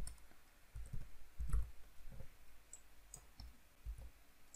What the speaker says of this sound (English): Let's type it like that again.